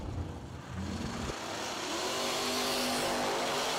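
A race car engine at a drag racing event roars and revs up loudly nearby, climbing steadily in pitch and intensity with no talk over it.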